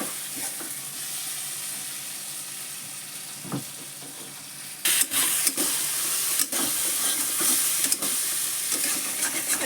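Elephant foot yam stems frying with spices and fish in a pan, a steady soft sizzle that grows louder and crackly midway, with occasional clinks of stirring.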